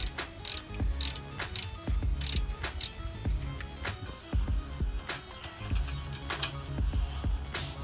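A ratchet loosens 13 mm rear brake caliper bolts on a Ford Explorer: close, fast clicking strokes with a few heavier clunks, repeated steadily throughout.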